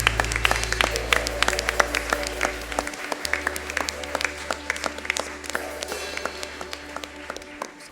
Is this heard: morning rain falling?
no